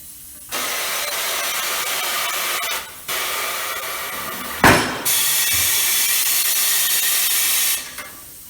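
A tire changer's bead breaker jaw pushes a car tire's bead off the rim, giving steady loud pneumatic hissing bursts broken by short pauses and a brief sharp clunk midway.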